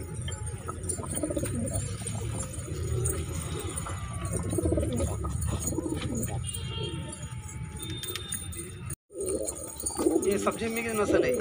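Pigeons of a Madrasi and high flyer breed cooing at a keeper's loft, with low soft coos running steadily through the scene under ongoing conversation, briefly cut by a short gap near the end.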